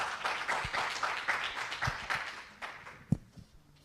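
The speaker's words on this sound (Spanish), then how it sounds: "Entonces, le damos un aplauso al doctor que vino aquí con nosotros." Conference audience clapping for a visiting doctor at an international academic congress, a moderate burst of applause with distinct individual claps that thins out toward the end.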